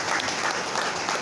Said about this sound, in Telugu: మీకు మీరే ఒక క్లాప్ చేసుకోవచ్చు.